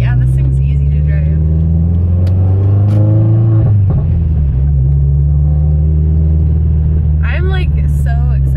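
Mitsubishi Evo 10 with a new clutch driving, a steady low engine rumble from inside the cabin with a brief rev change midway, while people talk over it.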